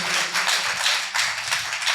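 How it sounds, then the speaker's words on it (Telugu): A church congregation claps loudly during a sermon in Narasaraopet, a dense, continuous wash of hand claps that swells and dips across two seconds without a pause. "చప్పట్లు కొట్టండి గట్టిగా."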